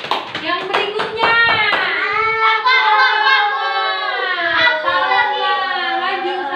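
Children in a primary school classroom clap their hands together, a quick burst of claps at the start followed by sustained high children's voices chanting or singing loudly over the room.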